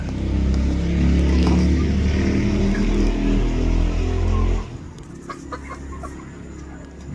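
Young roosters (stags), about five months old, in a farm breeding pen cluck and call over a heavy low rumble that drops away midway, leaving quieter scattered bird sounds.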